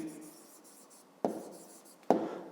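A pen writing by hand on paper during a fifth-grade maths exercise: soft, faint scratching strokes in a quiet room, with two sharper taps or scrapes near the end.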